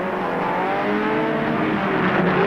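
A race car at the 1976 Bathurst 1000 pulling away after selecting a gear, its engine note rising steadily and loudly as it accelerates, heard alone without talk.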